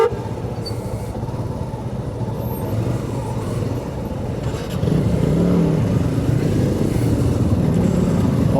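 A motorcycle being ridden off-road near Bangalore, its engine a steady close drone that grows louder and rougher about halfway through, heavy with wind noise.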